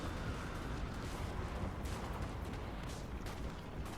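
Dense gunpowder rifle volleys and cannon fire rumble continuously through a large Total War: Warhammer battle, a steady wall of distant crackling shots and booms with no talk over it.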